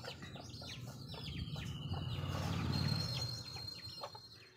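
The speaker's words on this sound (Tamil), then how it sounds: "எல்லா கோழியுமே வந்து மேலே அடைய போகிற டைம் வந்துடும்" Several hens cluck softly in a rural yard in the evening, a steady low murmur of fowl with scattered bird chirps and calls over it, no talking.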